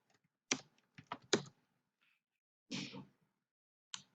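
Light keystrokes on a computer keyboard, a short quick cluster of taps followed by a softer longer press and a final single tap, close and quiet with no voices.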